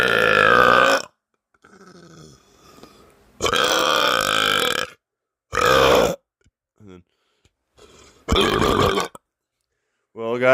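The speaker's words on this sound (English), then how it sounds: "Here's one more burp of each." Several loud, drawn-out human burps come one after another, each followed by a short gap, with a few quieter low grunting sounds between them and no talking.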